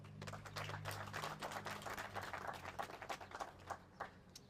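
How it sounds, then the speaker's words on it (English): Applause from the audience at a Milwaukee mayor's announcement with non-profits: a dense patter of many hands clapping steadily for several seconds, moderately distant and fairly quiet. "So clap it up for that."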